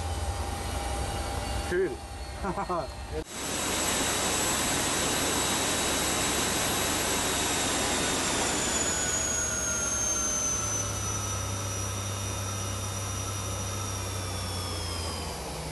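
A turbojet engine on a Caravelle airliner runs up to clamp power, a loud, steady roar with a high whine that grows denser after a brief dip. A person speaks once briefly over it.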